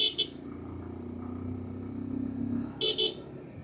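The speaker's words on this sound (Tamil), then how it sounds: "ஹாரன் அதே டியூவல் டோன் ஹாரன்." A 2026 Bajaj Pulsar 150 motorcycle sounds its dual-tone horn in two quick double toots, one at the start and one near the end, over a low idling engine hum.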